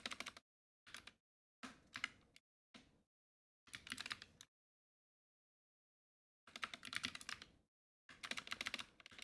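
Keys clatter on a computer keyboard in short bursts of quick typing separated by silent pauses, including a long gap midway, close and fairly quiet.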